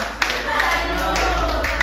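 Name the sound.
applause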